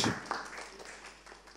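Media members at a press event for a singing show clap briefly, a soft, scattered patter of hand claps that fades out over a second or so.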